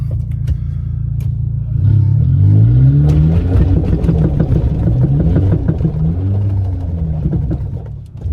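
A motorcycle engine runs close by at low, steady revs, rising into a louder rumbling rev around the two-second mark and then holding an uneven idle as it is driven slowly around the side of a building.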